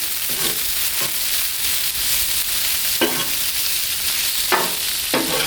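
Pork tenderloin bites sizzle on a Blackstone griddle outdoors in light rain, a steady frying hiss with a few sharp scraping or stirring bursts spaced through it, close and fairly loud with no talking.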